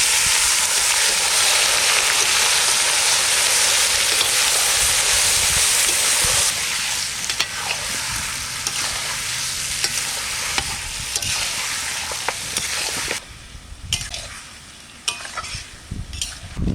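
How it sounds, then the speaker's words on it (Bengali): Marinated young goat meat frying in hot oil for a traditional mutton dish, a loud, steady sizzle with stirring scrapes, easing slightly after several seconds and dipping again near the end. "এখন আমি মাখিয়ে রাখা কচি পাঠা দিয়ে দেবো"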